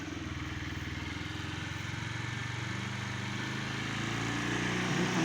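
A moped or scooter engine, started with the start button, settles into a steady close idle that grows slightly louder, with a rhythmic low putter and mechanical clatter throughout and no talking.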